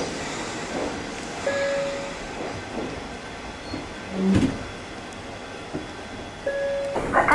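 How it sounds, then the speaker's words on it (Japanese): Rumble of an Ohmi Railway electric train at Hikoneguchi station, passing a train bound for Maibara, steady running noise with a couple of brief tonal beeps and a mechanical clunk, no voices. "この駅で米原行きの電車とすれ違いを行います。"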